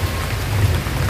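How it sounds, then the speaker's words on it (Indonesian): Steady rain pours down over a durian and petai harvest, a dense, continuous hiss filling the short moment with a deep low rumble beneath and no voices. "hujan"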